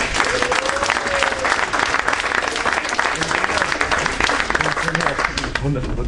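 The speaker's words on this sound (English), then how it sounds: "Guys, give applause." A club crowd at a dance lesson breaks into loud, sustained applause, thick continuous clapping with some cheering and voices mixed in throughout.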